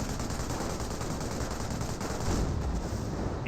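Dense, sustained gunfire in a Company of Heroes 1 match, with an MG42 machine gun emplacement firing for suppression amid a broad, continuous wash of battle noise at steady loudness.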